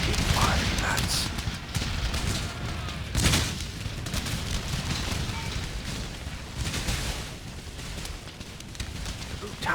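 Musket volleys in the Empire Total War strategy game, dense crackling gunfire with a few louder booming bursts amid battle noise and voices.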